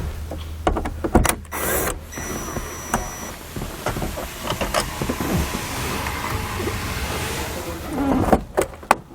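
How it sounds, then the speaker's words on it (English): A power driver with a T20 Torx bit whirs in short bursts, removing screws from the cab light on a truck, close and loud, with handling clicks between runs. "that is going to use a T20 Torx bit. So we're just going to take both of those screws out."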